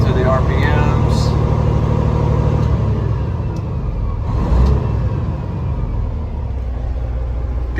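Engine of a 2017 Peterbilt 389 glider kit day cab truck rising and falling through its RPMs at operating temperature, a loud, smooth, close-up diesel rumble with a revving swell midway.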